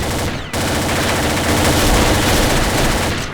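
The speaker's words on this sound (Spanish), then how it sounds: "Diablo, fallé todos los tiros." Gunfire in the online shooter Combat Arms Reloaded on the Ghost Town map, a loud continuous burst of rapid shots after a brief opening crack, filling the whole stretch.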